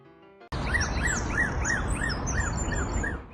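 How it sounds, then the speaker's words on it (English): A bird chirps in a quick, even series of repeated notes, close and clear, after a brief quiet moment. "That bird's chirp has been confusing."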